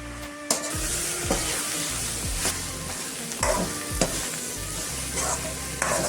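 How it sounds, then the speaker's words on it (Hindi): Radish sabji with spices sizzles steadily in a pan while a spoon stirs and scrapes through it in repeated strokes, close and continuous. "अभी मैं फिर से अच्छा से मिक्स करेंगे और 5 मिनट फ्राई करेंगे।"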